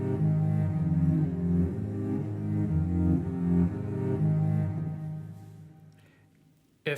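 A Pathfinder Cello plugin preset with trimmed path ends plays a sustained, bowed-cello-like phrase with gently shifting pitches, fading out near the end before a short abrupt burst, heard alone with no voices.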